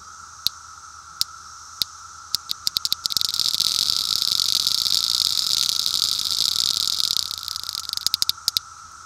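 A loud, steady cicada buzz swells in and holds for several seconds, framed by sharp scattered clicks before and after.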